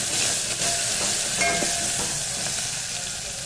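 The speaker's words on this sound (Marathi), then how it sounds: "आता लसूण पण छान फ्राय होऊ लाल" Garlic for dal tadka frying in hot oil with curry leaves, a loud steady sizzle and occasional stirring scrapes, close up with no talking.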